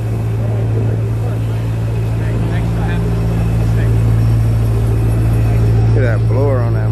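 Supercharged Shelby with a blower idling at the Woodward Dream Cruise, a loud steady low rumble close by with a constant throbbing drone, voices chattering over it.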